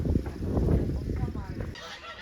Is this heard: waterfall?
no